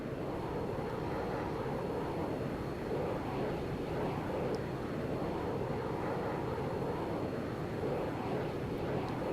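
An A-10 jet in the ARMA 3 video game roars down a short runway on takeoff, giving a steady, loud, broad engine rumble with a dense hiss that holds throughout without pause.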